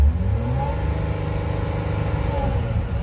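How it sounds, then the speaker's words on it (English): Mercedes Sprinter van engine revving while stuck in limp mode with fault codes, a loud, steady, close engine drone held at a capped rev level for three seconds with no voices. "First, we're gonna rev it."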